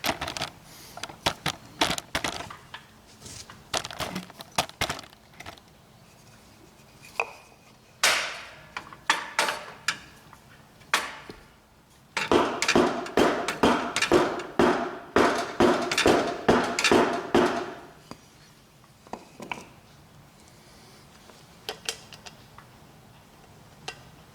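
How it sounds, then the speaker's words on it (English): Rapid metallic tapping and knocking as a hammer taps a new tyre onto a hay bob wheel, in bursts of quick repeated strikes with short pauses, loud and close with no talking. "I'm just going to give it a final tap on there."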